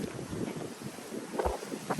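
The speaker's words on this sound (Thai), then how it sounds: "ลมแรงมากค่ะเพื่อน ๆแรงจริงๆ ค่ะ" Strong wind blows through palm trees ahead of a storm in northern Florida, a loud, gusty rush with buffeting bursts against the microphone and no talking.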